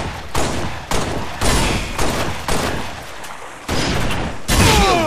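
Gunfire in a free-roam deathmatch video game, including sniper rifle shots: a string of loud, sharp reports in quick bursts with short gaps, close and dense, with a whistling sweep near the end.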